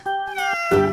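A single domestic cat gives a drawn-out meow, then a second short cry, loud and close against a quiet background.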